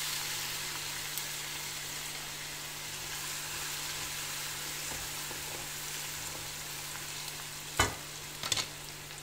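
Garlic, mustard seeds and asafoetida frying in hot oil for tomato pickle, a steady close sizzle that continues evenly with a couple of soft stirring knocks near the end.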